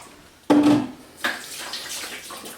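Boiling water poured into a bowl for bread dough: a sudden loud splash that tapers off, then a second softer gush trickling on briefly, close by.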